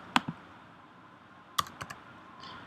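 Quiz answers being typed on a computer keyboard: a few quiet, isolated key clicks, a pair near the start and a short cluster of three or four taps later, with faint room hiss between and no voices.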